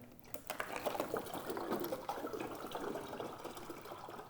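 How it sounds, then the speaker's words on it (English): Water splashes and gurgles steadily into a container, a continuous pour heard close by but fairly quietly. "So let's just dump this water in here."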